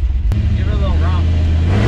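A Chevrolet 454 big-block V8 in a C10 truck rumbles loud and close, with a low steady idle that swells into a brief rev.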